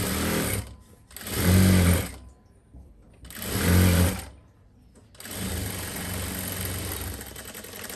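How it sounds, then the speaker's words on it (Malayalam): A sewing machine stitches over fabric while making a silk skirt and blouse. It runs in two short bursts, then a longer steady run, with a close, mechanical whirring hum. "ഈ തുണിയുടെ മീതെ ഒന്ന് പതിച്ച് തയ്ക്കണം."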